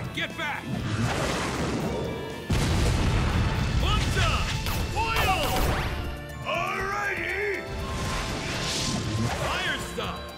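Fiery flame bomb blasts from the Naruto Ultimate Ninja Storm fighting game, a loud crashing boom at about two and a half seconds followed by more bursts and whooshes, mixed with game music and vocal shouts throughout.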